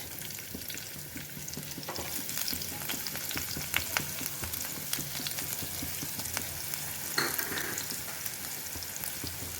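Onions sizzle and fry steadily in a pan for a semolina samosa filling, with stirring scrapes and a few louder clatters over the constant crackle, close and alone without speech.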